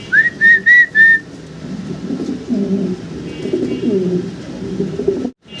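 Fancy pigeons, a male and female pair at a farm, cooing in soft repeated rolling coos close by, opened by a few sharp whistled notes.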